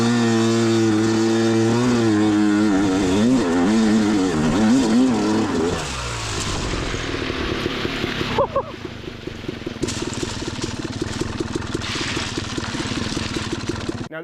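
A Yamaha YZ250 two-stroke dirt bike revs and strains through deep snow, its engine pitch rising and falling loudly up close before settling into a rougher, choppier drone.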